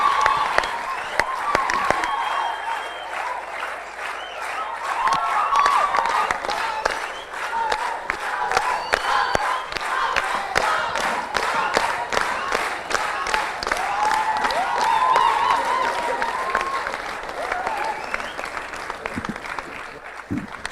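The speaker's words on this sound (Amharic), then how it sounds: "ሞቅ ባለ ጭብጨባ ተቀበሏቸው" An audience at a student quiz competition applauds warmly with dense, sustained clapping that carries on for about twenty seconds before tapering off.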